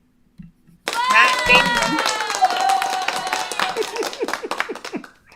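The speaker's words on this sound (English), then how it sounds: "Let me give myself applause." A small group claps in a quick, uneven patter while excited voices cheer and whoop over it, the clapping thinning out toward the end.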